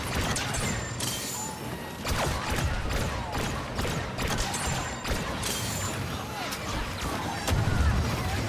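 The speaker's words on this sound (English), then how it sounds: "Mortar strike requested." A mortar strike in the Star Wars Battlefront 2 video game on the co-op map Takodana: loud, repeated blasts and crashing impacts over continuous battle noise, with voices talking in between.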